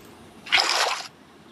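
A short water splash in the Minecraft video game, a single burst of splashing lasting about half a second, clear and close, with no talk.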